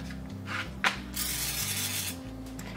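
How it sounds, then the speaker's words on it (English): Olive oil is spritzed onto tortillas from a pump sprayer. Two short hissing sprays come first, then a longer one, mixed with clicking and whirring of the mechanism. "I just spritz them with a little olive oil on each side."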